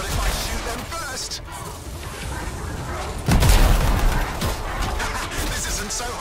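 Gunfire and explosive booms during combat in the video game Anthem, dense bursts of shots over a busy battle background, with a heavier blast midway, and voices talking among the noise.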